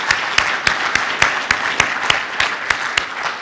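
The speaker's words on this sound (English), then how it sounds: "Let's give them a round of applause" Applause from a school audience honoring students and staff, with a few distinct sharp claps standing out at a steady rhythm over a dense, moderately loud wash of clapping.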